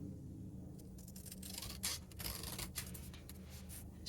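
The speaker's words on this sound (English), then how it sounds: "Now if I cut out the wishes section," Quiet snips and paper rustling as scissors cut a printed birthday-wishes piece of paper ephemera for a junk journal, with several short crisp cuts in close succession.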